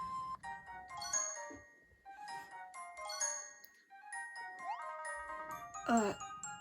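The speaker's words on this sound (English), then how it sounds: "These little bells." Small bells chime and tinkle in the Fantasy Life video game, bright overlapping rings repeating through a forest scene, with a louder cluster near the end over soft ambience.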